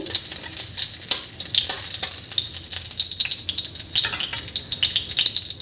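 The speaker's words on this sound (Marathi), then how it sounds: "हे खोबरं आहे हे भाजून घ्यायचं आहे छान तळून घ्यायचं आहे" Grated coconut fries in a hot pan with steady, close sizzling and scraping stir strokes, a dense crackle that carries on without a break and with no voices.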